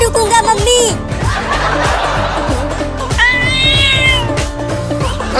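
A cartoon cat meows loudly in several drawn-out, wavering calls over busy music and sound effects, with an animated voice speaking alongside.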